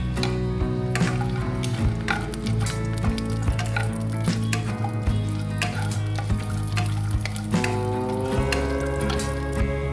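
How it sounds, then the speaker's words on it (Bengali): Cardamom, cinnamon, cloves, bay leaf and cashews frying in hot refined oil over a medium flame make a loud, continuous sizzle, broken by repeated stirring scrapes and knocks of a utensil against the pan. "তেল গরম হলে এলাচ, দারচিনি, লবঙ্গ, তেজপাতা ও কাজু বাদাম দিয়ে কিছুক্ষণ নাড়াচাড়া করে নেব মিডিয়াম ফ্লেমে"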